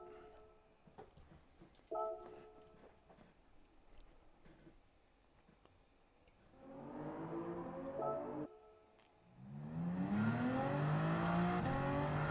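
Toyota Supra race car in Gran Turismo 7 driving, engine rising in two loud surges of revving and acceleration after quieter menu-like tones, with no talk over it.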